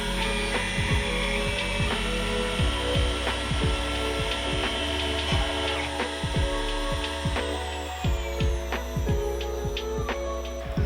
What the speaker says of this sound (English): I'm just going to bore a hole so that I can tap it 3 millimeters.